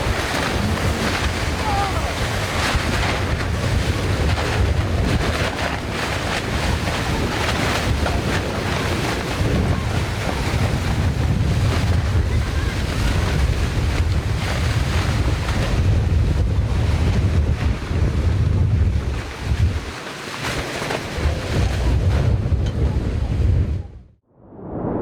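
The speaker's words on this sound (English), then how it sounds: "Strong winds suddenly hit the sailboat, causing it to lose control and shift direction abruptly" Strong wind roars over a sailboat as waves crash and surge against the hull and sweep the deck, loud and continuous, before cutting off abruptly at the end.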